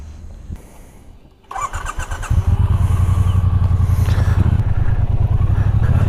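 A 2018 Triumph Bonneville with a six-speed gearbox and chain drive fires up and then settles into a loud, steady engine drone, the pulsing exhaust close and continuous with no talking over it.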